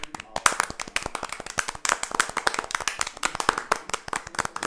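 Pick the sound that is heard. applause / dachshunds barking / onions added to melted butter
applause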